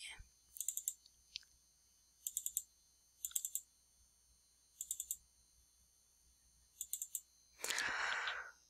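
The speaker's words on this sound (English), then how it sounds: "once you put in the middle of this border, and double click, and double click again," Computer mouse double-clicking on a PC, heard as about six quick, faint pairs of sharp clicks spread out with pauses between them, followed by a short burst of rustling noise near the end.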